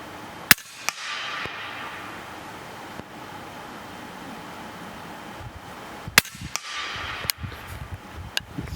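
Shots from a Huben GK1 air pistol ring out close and sharp over a hissy background. Several single cracks come at irregular intervals, including a pair in quick succession.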